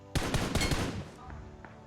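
A burst of rapid gunfire cracks in PUBG Mobile, several shots in quick succession that are loud and dense, then trail off into quieter game ambience.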